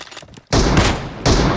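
A video game sniper rifle fires two loud, close, booming shots about three-quarters of a second apart, each with a heavy rumbling tail, after a brief quieter lead-in.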